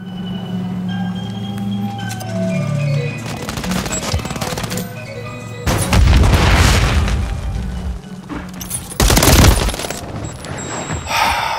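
Call of Duty Modern Warfare 3 multiplayer combat: bursts of gunfire and booming explosions come in waves over game sounds, with two especially loud, heavy blasts standing out.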